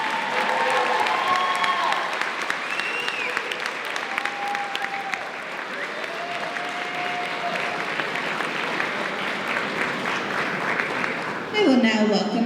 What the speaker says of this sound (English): Keep giving a round of applause for these stellar students.